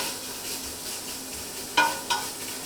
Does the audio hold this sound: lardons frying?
yes